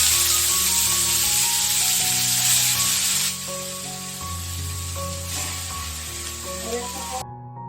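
Cut banana stem hits hot mustard oil with a loud, close sizzle that is strongest at first, eases after about three seconds and keeps crackling until it cuts off, with faint tonal sound behind it.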